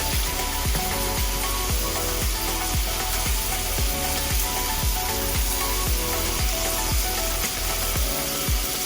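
Shrimp sautés in a pan on the stove with a steady, loud sizzle and crackle throughout, while a regular low rhythmic thumping runs underneath without any speech.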